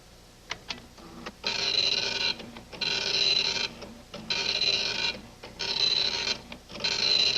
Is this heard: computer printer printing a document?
yes